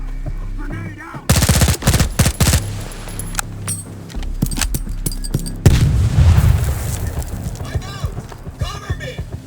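Loud bursts of automatic gunfire in the video game STALKER 2, with a heavy grenade explosion part way through, followed by rumbling and scattered shots, while voices shout over the chaos.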